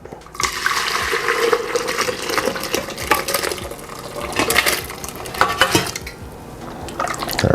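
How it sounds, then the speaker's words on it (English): Crushed pumpkin is scraped and poured into a cooking pot while making Jamaican goat soup, giving a continuous wet, sloshing, splattering sound with intermittent clinks of metal against the pot, close and fairly loud, with no talking. "Transfer that into a pot."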